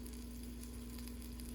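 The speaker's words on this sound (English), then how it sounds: "Saute the onions." Sliced onions sauté in a pan, a soft, steady sizzle with a faint hum beneath it, quiet and continuous with no talk.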